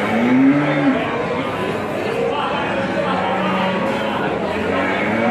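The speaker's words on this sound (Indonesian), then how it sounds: "tadi dibawa sama teman-teman dari Jogja punya sapi punya Mas Fajar terus ada punya Mas David" Cattle moo repeatedly against a dense, steady crowd murmur at Ambarketawang cattle market in Yogyakarta, Indonesia, with low bellows rising over chatter and general market bustle.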